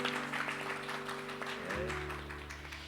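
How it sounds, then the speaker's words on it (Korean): Congregation applauding during a Sunday worship service at a Korean community church in Jakarta, a steady wash of clapping throughout over a sustained low organ or keyboard chord that shifts partway through. "우선 먼저 한번 박수 한번 할까요?"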